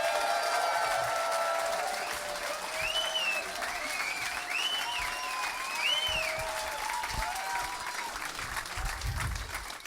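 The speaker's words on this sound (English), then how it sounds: "So please give a huge round of applause for Joe Jacobs." Comedy club audience at the Comedy Store applauding steadily for about ten seconds, a dense, even wash of clapping with a few whoops and a voice over the top.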